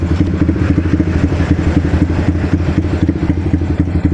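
Close by, a Yamaha Vixion motorcycle idles after its timing was reassembled, a loud, steady, throbbing engine beat with slight unevenness throughout and no voices.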